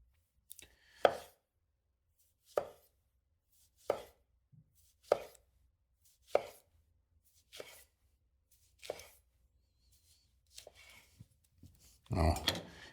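A knife cuts slices of tomato on a board for a roast beef po'boy, about eight evenly spaced crisp chopping taps, close and clear against near silence, ending in a louder rustling clatter.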